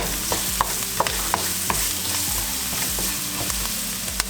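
Seasoning fries in a pan for vegetarian patties, giving a loud, steady sizzle close by, broken by occasional sharp taps and scrapes of stirring.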